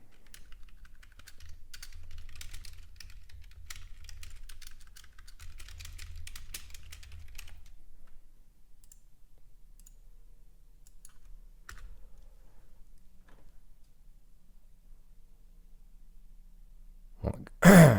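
Soft, rapid clicking of keys on a computer keyboard in bursts, then a quieter stretch with a few stray clicks, ending with a brief louder thump.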